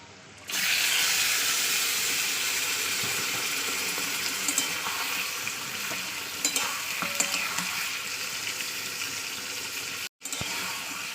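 Steady, loud sizzling of chicken frying in hot oil with occasional stirring scrapes, continuous throughout with a brief dropout near the end.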